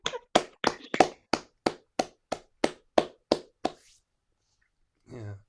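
Eleven sharp hand claps ring out in a steady, evenly spaced rhythm, loud and close, in an online meeting, followed by silence and a brief low rustle at the end.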